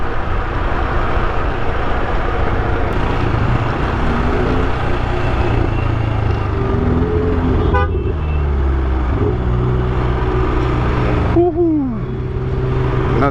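A car passing with its horn honking: loud, continuous road traffic with engine rumble and a couple of brief horn toots near the end, under outdoor background noise.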